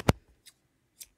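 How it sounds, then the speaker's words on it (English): Scissors snip crochet yarn with one sharp close cut, followed by two faint softer clicks of the blades. "and cut my yarn"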